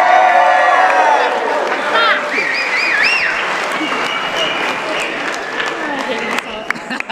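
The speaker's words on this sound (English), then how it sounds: "Let's give her a round of applause one more time." Wedding guests at a reception applaud and cheer, loud continuous clapping mixed with whoops and excited shouts from the crowd, with voices calling out over it.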